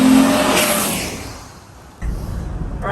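A Jeep Gladiator Mojave fitted with a Ripp supercharger and a V6 engine revs loudly at close range. A strong roar fades into a lull, then picks back up as the engine revs again, with no talk over it.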